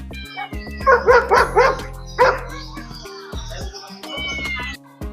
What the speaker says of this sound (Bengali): এগুলো হচ্ছে জার্মান শেফার এই কুকুরগুলো দেখতে যেমন ভয়ানক